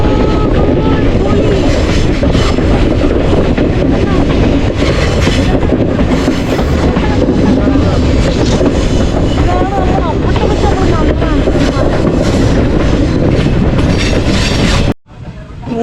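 A passenger train rolls along the Kollam–Sengottai mountain line, a loud continuous rumble and rattle of wagons with clickety-clack from the rails, muffled voices faintly underneath, cutting off abruptly at the end.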